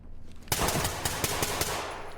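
Rapid automatic gunfire echoing inside a college building in a video game, a dense rattling burst of repeated shots heard from within, loud and continuous without talk.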